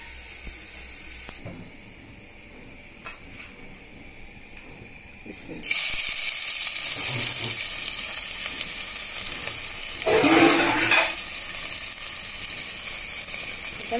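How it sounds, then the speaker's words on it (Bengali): Thinly sliced pointed gourd (potol) fries in a pan with a steady broadband sizzle that steps louder partway through and swells again briefly near the end, with light stirring clatter throughout. "এই যে এখানে পটল ভাজি করব।"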